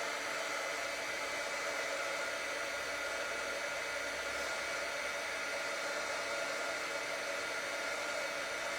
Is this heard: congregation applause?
no